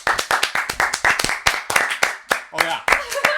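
A small audience claps for podcast guests as they are welcomed, a few dozen uneven sharp claps over several seconds, with a voice heard faintly underneath.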